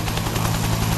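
A video game helicopter hovers in a steady, loud rotor and engine drone that stays constant throughout with no pauses.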